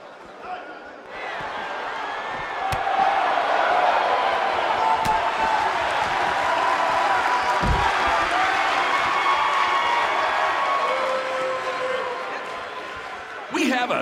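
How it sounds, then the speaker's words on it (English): A large arena crowd in the WWE 2K19 wrestling video game cheers and roars in a steady, loud wash that runs nearly the whole stretch, with a few sharp thuds and slams cutting through. "We have a sold-out, record-setting crowd here for BCW tonight."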